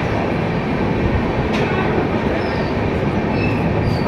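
An Amritsar–Howrah express train running after leaving Asansol Junction, heard from inside as a constant loud rumble and rattle of the wheels and carriages, with a faint squeal now and then.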